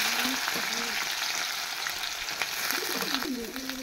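Eggs dropping into hot oil in a pan for fried rice, with cinnamon already added, give a steady close sizzle and crackle throughout, broken by a few scraping stirs.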